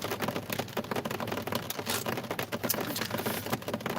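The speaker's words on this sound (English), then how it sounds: "it's getting louder because the rain is coming off of the ceiling, not the ceiling, my roof of my house" Rain pattering on a house's porch roof, a dense, steady spatter of fine close drips with no let-up, loud and even throughout.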